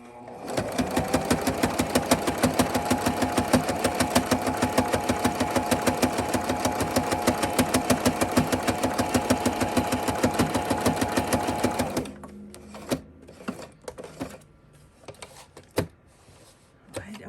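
A sewing machine stitches a stocking in a fast, steady run for about twelve seconds, loud and close, then stops and gives way to scattered handling clatter.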